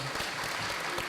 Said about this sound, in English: Let's do a little birthday round of applause, y'all.